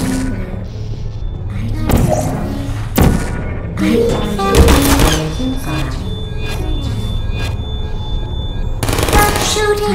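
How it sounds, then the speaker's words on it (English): Portal sentry turrets firing in the video game, several short bursts of rapid gunfire mixed with thumps and clattering impacts, with synthetic turret voices speaking between and over the shots. "Stop shooting!"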